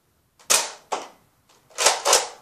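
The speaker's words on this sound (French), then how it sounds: "Donc c'était le test fire" A Nerf Recon CS6 blaster fires foam darts one at a time, giving four sharp, airy pops at close range with short, uneven gaps between them.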